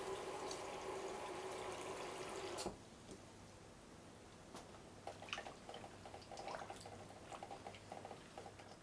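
Apple cider vinegar is poured into water in which a garden harvest is set to soak: a soft, steady stream of liquid stops abruptly and gives way to faint scattered drips and light splashes.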